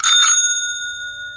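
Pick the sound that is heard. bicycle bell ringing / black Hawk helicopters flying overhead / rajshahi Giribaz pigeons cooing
bicycle bell ringing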